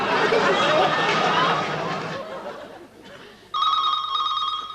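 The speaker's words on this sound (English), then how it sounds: "We cue a fake phone call to keep Richard busy while the Pratts get ready for mischief." A telephone rings with a steady two-tone electronic trill as a staged fake call on a prank television show, starting after crowd chatter fades.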